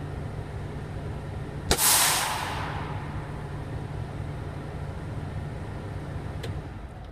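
A semi truck's parking brake, on an International Prostar, releases with a single sharp burst of air that hisses loudly and then fades over about a second, over a steady low engine idle.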